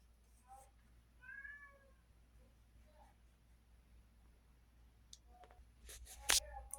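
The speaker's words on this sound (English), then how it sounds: "Ignore my cat meowing in the background." A pet cat meowing in the background, a few soft, faint mews in a quiet room, followed by sharper clicks and a louder burst near the end.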